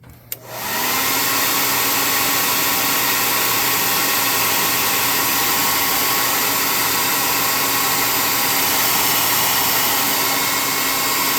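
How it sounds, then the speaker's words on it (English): A hot air gun blows steadily on freshly painted wings of a custom tabletop creature miniature, a loud continuous whooshing hiss that starts after a click and runs unbroken to the end. "I'm going to hot air gun that so it doesn't stay wet."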